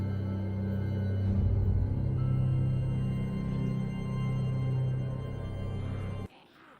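Music from the video game Destiny 1 plays as a steady, low and full atmospheric passage with sustained tones, then drops away abruptly near the end.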